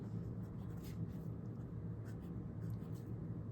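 A Lamy All-Star fountain pen with a medium nib scratches across paper in soft, faint strokes, quiet and close with short scratchy bursts.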